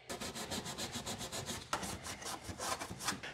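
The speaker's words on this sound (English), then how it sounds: "All the scrubbing." Steady back-and-forth scrubbing of a 1967 Dodge Dart engine bay, a rhythmic brushing rasp repeating several times a second, close and moderately loud with no talk.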